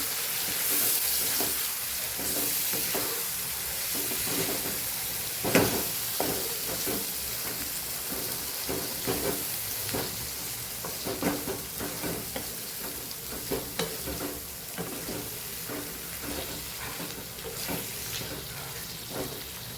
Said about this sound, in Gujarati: તો આપણે અહીંયા ગુવારને ઉમેરી દઈશું તેલ સરસ છૂટું પડી ગયું છે મિક્સ કરી દઈશું